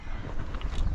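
Steady wind gusting across the open riverbank during salmon fishing on the River Tay in Scotland, a continuous low rumbling buffet with no voices.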